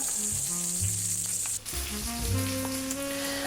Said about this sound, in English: when you've got thick chops like this, you need to brown every side that you can find